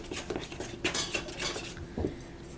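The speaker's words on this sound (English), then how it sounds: "I'm just going to take my spoon because I still have some powdered sugar here on the edges that I can mix" A spoon scrapes and clinks around a bowl, mixing leftover powdered sugar from the edges into creamy whipped icing for a homemade chocolate cake, a few quick close knocks and scrapes in a short burst.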